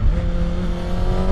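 A Kawasaki ZX-6R motorcycle engine pulling hard after a gear change, a loud close steady rising whine from the rider's position with no talk.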